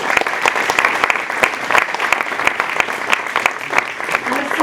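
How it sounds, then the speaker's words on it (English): An audience claps steadily and loudly throughout, with dense overlapping hand claps at an evening award event honoring an international woman of courage. "A round of applause to start this evening."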